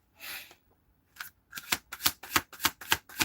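A deck of tarot cards is shuffled close up: a first riffle, a pause, then a quick run of about eight sharp, evenly spaced riffles, with no one talking.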